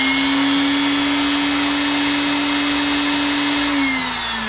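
A Bosch Colt palm router with freshly changed brushes runs steadily at a high whine, close and loud with no talk, then spins down slightly near the end.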